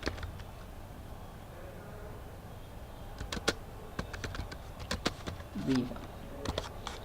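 Code being typed on a computer keyboard for 8051 counter programming in Keil: scattered sharp key clicks in short bursts, fairly quiet, over a low background hum.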